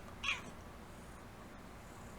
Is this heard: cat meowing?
yes